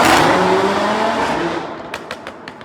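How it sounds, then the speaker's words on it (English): An Audi RS3 with Stage 2 tuning and a five-cylinder engine revs hard up close, a loud raspy roar that fades over a couple of seconds into crackles and pops, with no talking. "None of them come close to sounding as good as the 5-cylinder sounds in an RS3."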